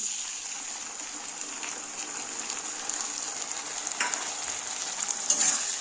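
Onion, ginger, cumin, coriander and dried chilli paste frying in a pan, a steady broad sizzle throughout with occasional stirring scrapes, close and moderately loud with no talk.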